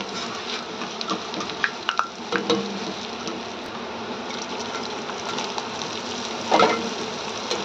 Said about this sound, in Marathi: आता आपण कीस तळून घेणार आहे.